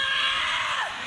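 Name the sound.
wrestler screaming in pain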